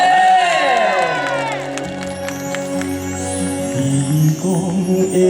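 A crowd cheers and applauds at an evening temple-courtyard show in Xiaying, Tainan. The loud, steady cheering blends with music and voices throughout.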